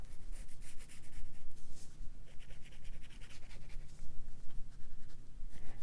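A pen drawing lines across fabric for a stitched square, steady scratchy rubbing strokes in a continuous rhythm, close and fairly loud, with no talking.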